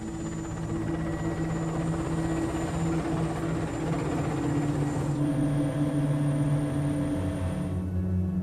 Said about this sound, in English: Our helicopter flew us out across the Caspian.